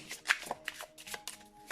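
A tarot card deck being shuffled close up, a quick run of crisp riffling flutters and soft card slaps in uneven bursts, with no talking.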